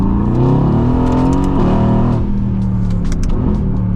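A Mercedes-AMG GT S V8 pulling hard in second gear, its engine note climbing in a loud, close harmonic roar before a shift-like dip and continued rumbling pull.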